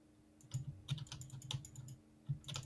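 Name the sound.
computer keyboard typing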